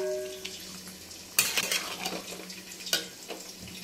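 Mutton curry with potatoes is stir-fried over raised heat, a soft background sizzle cut by two sharp clanking scrapes of a metal spoon against the pan and lighter knocks between.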